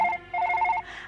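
A telephone rings in bursts, a short trill, a pause, then a longer rapid electronic ring that cuts off, heard close and alone with no voices.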